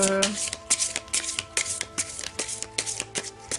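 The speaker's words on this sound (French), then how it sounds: "Je vais tirer une dernière carte avec le petit enchanteur" Tarot cards being shuffled and drawn from a deck, a dense run of crisp riffling and flicking clicks close by, continuous and fairly loud throughout.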